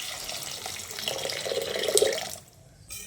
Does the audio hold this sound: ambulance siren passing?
no